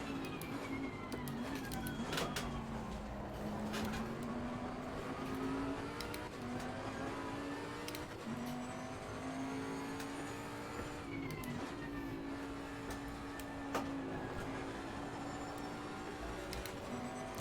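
A Bentley race car in Assetto Corsa Competizione holds a steady, loud engine drone the whole way through, its pitch rising and falling gently through fast corners, with faint tyre and wind noise underneath and no talk.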